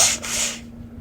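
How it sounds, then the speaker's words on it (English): A person blows their nose once in a short, breathy burst, close and moderately loud, fading within about half a second. "I had to blow my nose."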